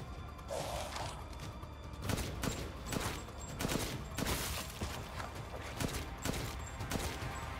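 Gunfire in Resident Evil 8 while running and gunning: sharp shots repeat at irregular intervals with mechanical clicks and clatter between them, moderately close, with no talking.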